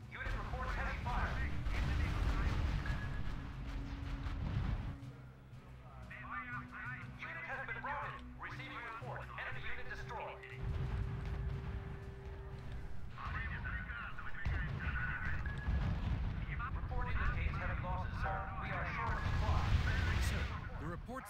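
Battle gunfire and artillery in the strategy video game R.U.S.E., a steady low rumble of distant shots and blasts running throughout, with radio-style voice reports and talk over it.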